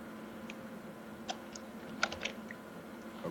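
Light clicking on a computer keyboard, a few soft scattered keystrokes in quiet room tone, faint and sparse with no voices.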